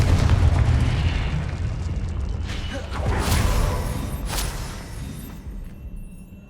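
A Confringo spell in Hogwarts Legacy bursts into a loud, rumbling explosion with crackling blasts and debris, then the roar fades away.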